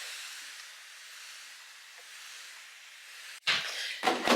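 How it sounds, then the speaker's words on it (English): Pump spray bottle misting pepper seedlings: a long soft hiss of fine mist, then two sharper, louder bursts of spray near the end, close by with no talking. "You just pump it and it creates more mist."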